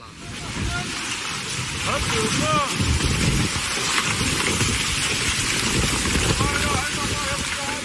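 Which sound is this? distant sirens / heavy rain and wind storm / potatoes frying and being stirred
heavy rain and wind storm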